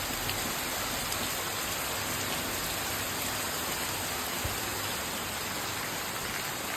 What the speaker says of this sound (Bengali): কয়েকদিন পর বৃষ্টি শুরু হলো, বৃষ্টি পড়ছে।